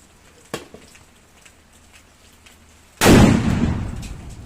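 A firecracker goes off with one loud, sudden bang after a small pop and quiet ambience, followed by a lingering crackling decay.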